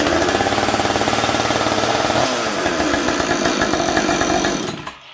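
A chainsaw runs loud and close with a rough, rapid buzzing idle, then blips briefly before cutting off at the end.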